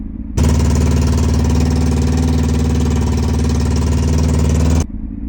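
A cheap motorbike engine runs on choke, a steady close-up idle that starts abruptly, holds evenly for about four seconds, then cuts off, with no talking.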